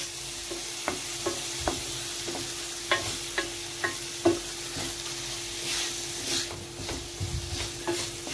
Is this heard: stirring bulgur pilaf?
yes